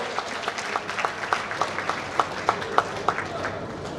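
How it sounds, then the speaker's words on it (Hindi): A festival audience applauds a film with sparse, rhythmic clapping that carries on steadily for a few seconds in a reverberant hall. "दोस्तों आपकी तालियां दे अभिषेक मल्लेश की फिल्म अभी दे अप्लॉज"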